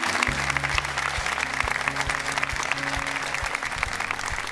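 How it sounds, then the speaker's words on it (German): Studio audience applause on a German TV sports talk show, a dense, steady wash of clapping that runs the whole time, with a low humming tone underneath. "einen kleinen Applaus für dich aus München"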